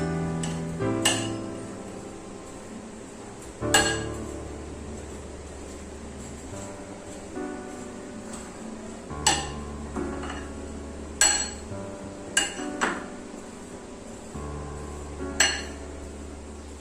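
Solid biscuit crust pieces for a no-bake cheesecake are crushed with a utensil in a dish, giving sharp intermittent clinks and knocks spaced a few seconds apart, close up against quiet background hum.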